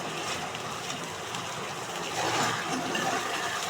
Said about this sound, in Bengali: এই মশলাটার মধ্যে দেব কিছুটা পরিমাণ জল